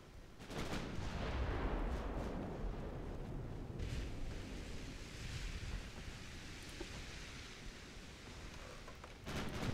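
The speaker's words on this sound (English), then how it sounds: "No, the bow turret can still fire." Naval gunfire from a warship's bow turret in the game Ultimate Admiral: Dreadnoughts, a heavy muffled boom with rumbling, roaring sea-like noise that keeps going, then a sharper blast at the very end.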